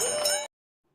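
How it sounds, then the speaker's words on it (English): A bell is struck once and rings with a bright, clear, sustained tone for about half a second before cutting off sharply into silence. "Ring the bell."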